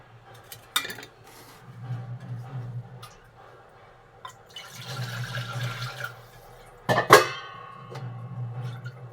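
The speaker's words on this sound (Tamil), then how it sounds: "இப்போ இது கழனி தண்ணி தான் ஊற்றுனேன் ஏன்னா கொதிக்கணும்ல உங்களுக்கு" Rice-wash water splashes and pours into a pot amid kitchen clatter, with a sharp clank of metal near the end; no voices.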